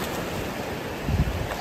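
Ocean surf rolls onto the beach at Plum Island at night, a steady wash with one wave breaking a bit louder near the end, under wind noise.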